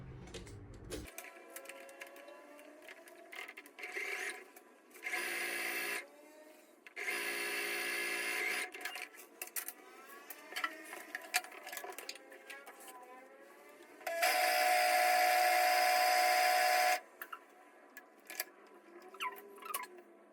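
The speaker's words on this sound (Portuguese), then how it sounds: "eu já vou passar na overlock também" An overlock serger runs in several short bursts, a close buzzing whir, while sewing the back crotch seam of tailored trousers, with quiet pauses and handling noise between runs.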